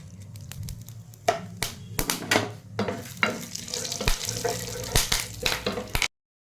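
Mustard seeds fry in hot oil in a pan, giving close sizzling with irregular sharp pops and crackles along with stirring scrapes. The sound cuts off abruptly at the end.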